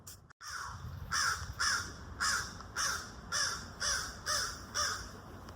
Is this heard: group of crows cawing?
yes